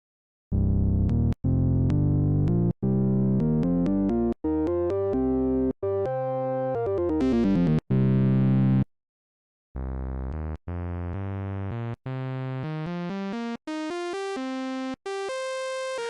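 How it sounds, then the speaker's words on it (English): Bazille synthesizer oscillator 2 playing a nearly sawtooth wave with phase distortion: a sequence of bright, buzzy sustained notes stepping up and down in pitch, clean and alone, with a brief gap of silence partway through. "The waveform is nearly a saw wave with phase distortion at 76 from 100."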